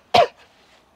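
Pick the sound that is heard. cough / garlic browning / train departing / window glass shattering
cough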